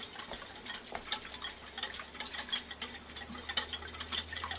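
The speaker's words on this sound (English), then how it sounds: "I'm going to add in 3 tablespoons of milk. Just going to stir that quickly right on in." Milk stirred into a cheese souffle sauce in a pan, with soft, quick scraping and light clinks of the utensil against the pan, quiet and close with no talking.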